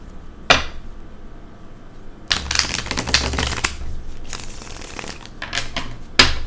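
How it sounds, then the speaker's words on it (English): A deck of tarot cards is shuffled by hand, a quick riffle followed by several seconds of close, crisp, papery flicking and sliding with no voices. "Shuffle one more time."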